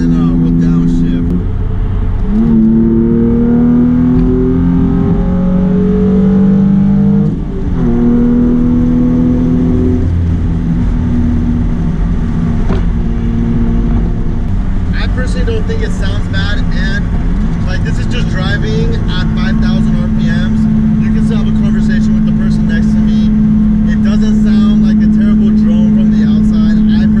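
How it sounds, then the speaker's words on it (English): A Nissan 350Z's engine drones steadily from inside the cabin, rising in pitch as it revs through gears on the freeway, with a deep exhaust rumble throughout. "A lot of you guys wanted to hear what the exhaust sounds like from the inside."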